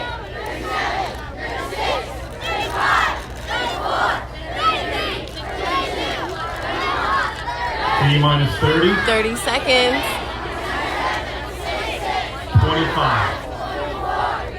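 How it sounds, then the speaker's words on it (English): Excited crowd at a rocket launch in Huntsville, cheering and shouting continuously with dense, lively hubbub at steady moderate loudness while an announcer calls out the countdown over the noise. "The crowd is getting very excited here."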